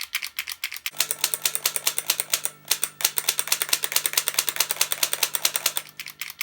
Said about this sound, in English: the functional click of the NES Zapper